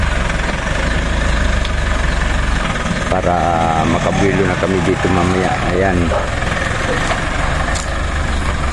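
A parked car's engine idles steadily as the vehicle is moved into a garage being cleared, a low continuous rumble running throughout while people talk over it.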